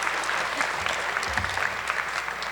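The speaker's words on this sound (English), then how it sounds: "Give her a round of applause." Audience at a high school scholarship awards night clapping, a full, steady round of applause with a faint low murmur beneath it.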